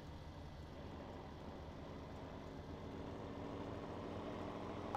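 A tractor engine idles in Farming Simulator 17 with a low, steady, even rumble, fairly quiet and unchanging throughout, with no talking.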